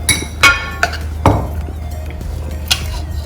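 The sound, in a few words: chopping an avocado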